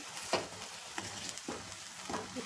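Grated beetroot ladoo mixture with coconut and jaggery roasting in milk and ghee: a soft, thick sizzle under slow stirring, with a few scraping strokes of a spatula through the paste, quiet and close, without speech.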